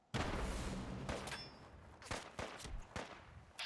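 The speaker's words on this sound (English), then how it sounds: "something big and plasma just exploded over there" Loud, broadband blasts in Fallout 4 modded survival: an abrupt heavy burst opens, followed by several sharp explosive cracks in an irregular cluster, plasma-style detonations echoing nearby with no voices.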